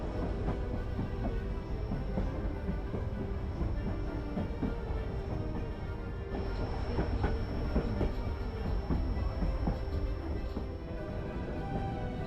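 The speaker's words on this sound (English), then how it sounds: "as the train rolls along here" The White Pass Railway train on the historic Klondike route out of Skagway, Alaska, rolls steadily with a continuous rumble and rhythmic clickety-clack of wheels on track, loud and close throughout with no voices.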